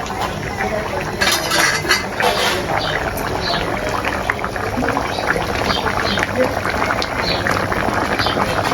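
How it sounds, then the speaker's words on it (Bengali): Surma fish curry simmering in a pot, a steady dense bubbling and sputtering that stays close and continuous throughout, with faint voices underneath. "মাছ তো দিয়েছি এবার আরো কিছুক্ষণ ফুটিয়ে নেব"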